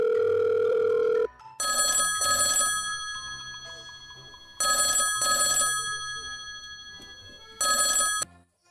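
Telephone ringing unanswered, three separate double-burst rings with pauses between them, clear and fairly close, after a brief steady tone at the start, no talk.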